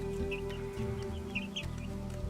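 A Polish green-legged partridge rooster clucking nearby in a spring farmyard, a few soft short calls over a constant low mechanical hum.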